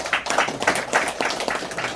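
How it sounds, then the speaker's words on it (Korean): At a forum of April 19 Revolution figures, a seated audience gives a short round of clapping to welcome a commemorative association official, steady overlapping claps at moderate loudness for about two seconds. "박수 한번 쳐주십시오."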